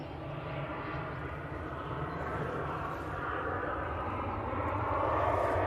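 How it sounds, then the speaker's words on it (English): A Ryanair airliner departing Manchester Airport for Oslo, heard as a faint, distant jet rumble that swells gradually and grows a little louder toward the end, with no talk over it. "Ryanair off to Oslo."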